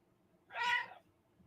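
A house cat gives a single short meow, moderately close and clear, rising out of a quiet room and fading within about half a second.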